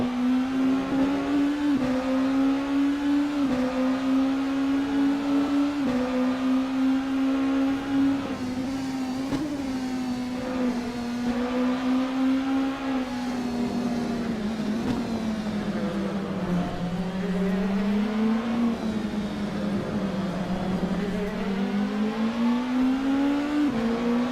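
Race cars lap Interlagos in a racing video game, their engines holding a loud, continuous droning whine that rises and falls through gear changes and corners, with no one talking.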